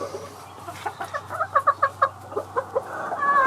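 A yellow-legged gamefowl hen with a large body clucks in a rapid, rhythmic series of sharp calls close by, building in loudness toward the middle before trailing off.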